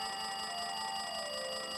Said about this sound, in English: It looks like that phone is ringing.